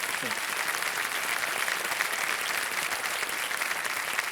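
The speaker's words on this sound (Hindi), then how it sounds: "तालियों के साथ इनका हम अभिनंदन" Studio audience applause on a televised quiz show, greeting a returning contestant: a steady, dense wash of clapping from a large crowd, evenly loud throughout with no voices above it.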